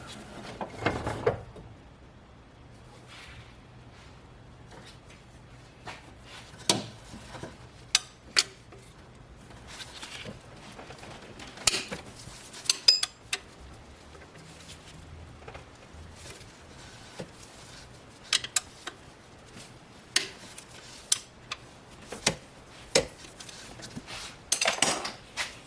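Metal tools clink and scrape while a bolt is worked loose on a Toyota Hilux with a crank-no-start fault, producing sparse sharp ticks and clatters spread over a quiet background, close and intermittent.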